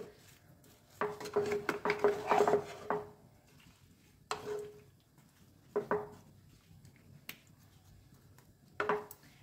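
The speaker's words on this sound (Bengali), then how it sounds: "এবার এটাকে একটু ভালো করে নেড়ে চেড়ে দিচ্ছি, যাতে লবণটা সব জায়গায় লাগে।" Chutney being stirred with salt in a pot: a spoon clinks and scrapes against the metal in short, separated bursts, a busy cluster first and then scattered single knocks between quiet gaps.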